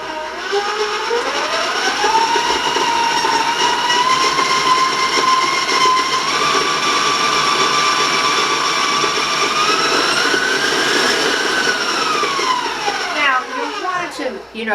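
An electric mixer beating eggs and butter whirs loudly and continuously, its whine rising in pitch as it speeds up, holding steady, then winding down near the end.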